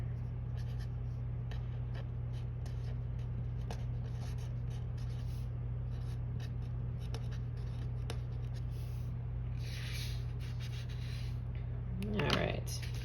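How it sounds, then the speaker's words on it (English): Pen on paper in hand-written study notes, a soft close scratching that comes in brief strokes over a steady low electrical hum. "I just write that word down here"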